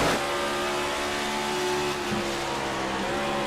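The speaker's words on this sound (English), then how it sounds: "You hear him downshift into the corner, down to fourth gear." Race car engine in a racing video game at Nashville, droning steadily at high revs with a brief dip as the driver downshifts into fourth gear for a corner, loud and continuous with no talk.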